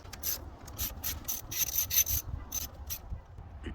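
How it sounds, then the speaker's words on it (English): Metallic ratcheting and scraping clicks come from a wrench loosening the negative battery terminal on a 2017 Ford Raptor Gen 2, heard as a close, quiet series of short rhythmic bursts. "Now what I'm going to do on the battery negative terminal, I'm going to loosen this."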